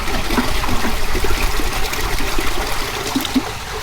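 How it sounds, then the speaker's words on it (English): Water pours into a bait tote, a loud continuous trickling and splashing that runs unbroken and close up, with no voices. "Add a little bit more water."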